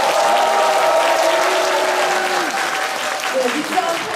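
Audience applause at a citizens' talk concert marking a city mayor's 100 days in office: sustained group clapping throughout, with an amplified host's voice speaking over it.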